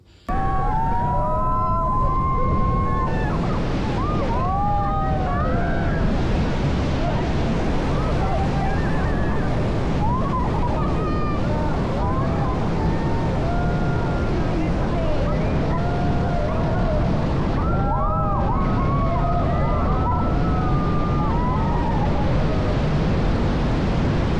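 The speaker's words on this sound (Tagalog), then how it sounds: "lalapit ka sa bumabagsak na napakalakas na pressure ng tubig" Pagsanjan Falls pours with powerful falling water, a dense continuous roar that stays loud throughout, with voices and shouts riding over the rushing noise.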